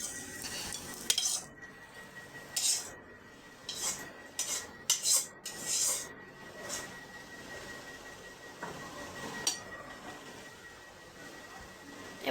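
Grinding a bharta mash of coriander leaves, tomato and eggplant, heard as close, intermittent scraping and rubbing strokes in short bursts with pauses between them and no talking.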